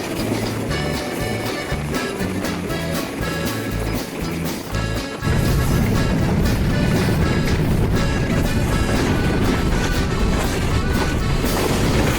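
The Chilahati Express rushes past the halted Nilsagar Express, a low rumble that suddenly swells into a loud, steady roar of wheels and clattering carriages, heard from close by.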